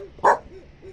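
A single short dog bark rings out at mid distance over a low background hum, one sharp yelp with nothing following.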